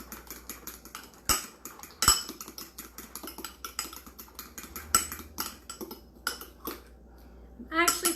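A spoon stirs keto pumpkin mug cake batter in a mug, with rapid irregular clinks and scrapes against the mug walls and a few sharper knocks, close up.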